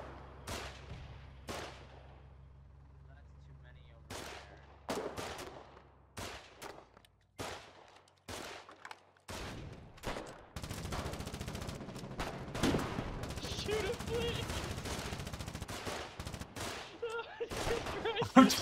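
Gunfire in the war game Foxhole: a run of sharp, separate shots spaced out at first, then a denser, continuous stretch of shooting and battle noise, with voices faintly present.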